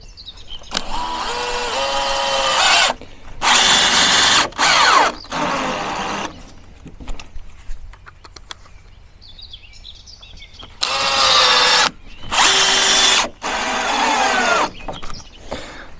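A power drill drives screws into terrace decking boards, with repeated loud whirring bursts of a few seconds each and brief pauses between them. A quieter stretch in the middle carries faint outdoor sounds and possible birdsong.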